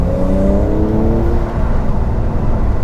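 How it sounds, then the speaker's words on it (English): A 2019 Porsche 911 Carrera 4S twin turbo accelerates hard with its exhaust valves open, a steady loud engine drone whose pitch climbs through the first second and then holds as a continuous roar. "You can already hear the exhaust valves have opened."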